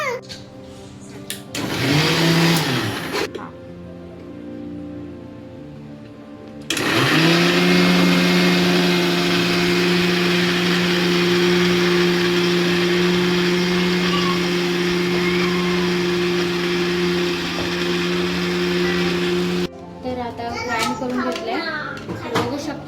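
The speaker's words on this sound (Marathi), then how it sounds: "आता आपण हे मिक्सरला ग्राइंड करून घेणार आहोत" A mixer grinder whirs loudly and steadily for a long stretch grinding cumin, ginger, coriander and chillies, with children's voices heard before and after the grinding.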